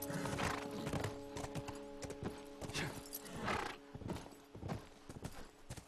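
Horse hooves clip-clop steadily on hard ground in The Last of Us Remastered, a close, rhythmic trot of repeated hoofbeats with a brief whinny-like tone, heard alone without talk.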